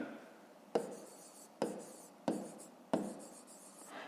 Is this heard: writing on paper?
yes